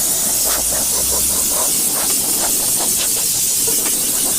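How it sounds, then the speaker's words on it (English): An air compressor nozzle blasts air onto a motorcycle during washing, a loud, continuous close-up hiss with slight fluttering pulses throughout; no voices. "So I'll take my air compressor."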